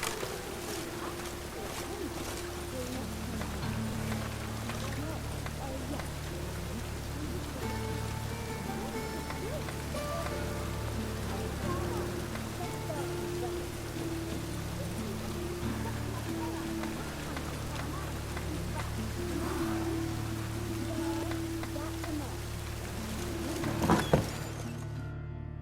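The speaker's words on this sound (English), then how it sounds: "Rain again." Rain in The Witcher 3, a steady, soft hiss of falling rain all the way through, with game sounds and voices under it and a brief sharp thump near the end.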